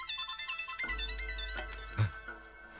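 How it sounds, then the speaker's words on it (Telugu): A phone ringtone plays a melodic electronic tune at moderate volume, with a low hum and a short knock partway through. "నేను చెప్పాను కదా సీను గారు ఫోన్ చేస్తాడని"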